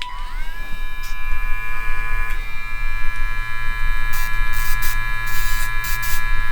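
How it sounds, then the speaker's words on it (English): A Dremel pet nail grinder rounding a reptile's claws, a loud steady high-pitched motor whine that rises as it spins up, with scratchy grinding contact bursts toward the end. "it's always good to round the edges with that Dremel"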